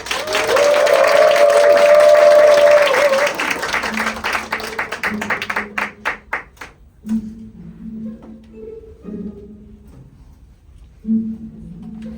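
A crowd at the opening of a stage performance bursts into loud, dense applause and cheering for a few seconds, then thins into scattered claps that taper off, leaving quieter room tones and brief low sounds.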